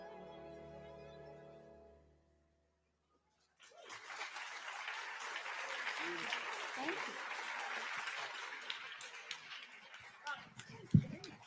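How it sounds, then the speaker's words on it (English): A concert audience applauds a singer after a patriotic symphony orchestra performance; after a held orchestral chord fades and a short pause, broad clapping builds and continues at a moderate distance with a few louder bumps. "Another round of applause for Sara Jones"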